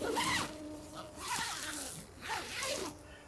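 Nylon zipper on a Big Agnes Tiger Wall UL2 ultralight tent being pulled closed with thin fabric snagging, giving several short scratchy rasping runs close up, with faint voice in the background.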